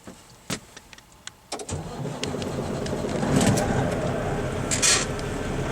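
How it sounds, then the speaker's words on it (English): A truck's engine cranks after a few sharp clicks and thumps, then catches and settles into a steady idle that continues to the end, with faint chirps in the background. "I'm going to do a safe start on the truck."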